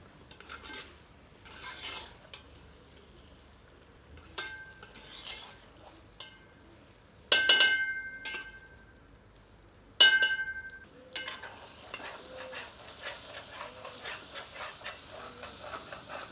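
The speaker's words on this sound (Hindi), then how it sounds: "आंच को तीव्र कर लेते हैं और दही को अन्य सामग्री में मिलाकर अच्छी तरह भूनते हैं" Yogurt is stir-fried with spices in a pan for an Old Delhi–style Mughlai korma: a ladle scrapes and clinks against the metal in bursts, with a soft sizzle and hiss that grows steadier toward the end.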